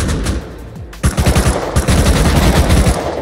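Rapid automatic AK rifle fire in Rust Console Edition, loud and close, with a short burst followed by a sustained stream of evenly spaced shots under a constant background wash and no talking.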